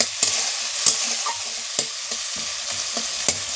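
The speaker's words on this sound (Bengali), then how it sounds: "দুটো পেঁয়াজ কুচানো দিয়ে দিচ্ছি পেঁয়াজটা লাল লাল করে ভেজে নিতে হবে" Two chopped onions frying in a pan with green chillies, a soft continuous sizzle broken by sharp regular spatula strikes against the pan, close and without talk.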